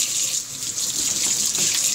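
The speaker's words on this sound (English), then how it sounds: "Alright, then I turn the hot water on over on the other side." Hot water runs from a sink tap on the far side of a workbench sink, a loud, steady hiss of flowing water with a bright splashing edge that holds evenly throughout, no talk over it.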